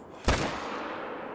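A single loud gunshot in the hunting video game theHunter: Call of the Wild cracks sharply, followed by a brief rumbling echo that fades under a steady background hiss.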